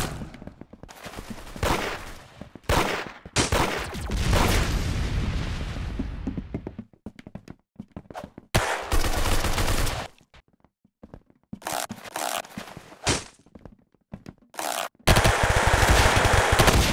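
Gunfire rattles through a round of the video game Arsenal, with dense automatic bursts, sharp single shots and booming blasts coming in loud waves between brief lulls.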